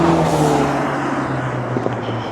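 Outside, a car's engine drones loudly as it speeds up, a continuous motor hum that gradually eases off as it moves on.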